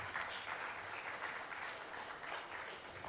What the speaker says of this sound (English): Can we have a huge round of applause for all the panelists?